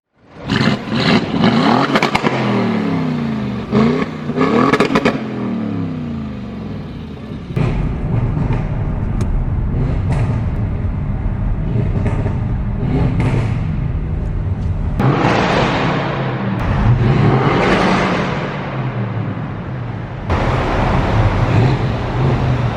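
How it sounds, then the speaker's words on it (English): A rebuilt salvage Audi RS6 on a test drive, its engine revving and rising through the gears in repeated loud, close surges, with sharp transient bursts and steady road roar between them. "now it's time to take it out, take it for a drive, hopefully get some tunnel runs, and yeah, we'll try to get it to bang and pop"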